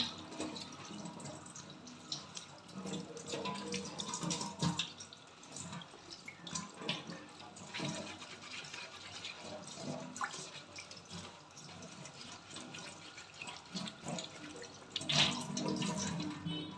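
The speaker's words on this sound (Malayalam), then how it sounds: "ചേമ്പിൻ്റെ ഇല നല്ലവണ്ണം ഒന്ന് കഴുകി എടുക്കാം" Tap water running steadily into a sink while taro (colocasia) leaves are washed under it, a continuous close splashing rush with shifting splatter as the leaves are moved and rubbed, no talking.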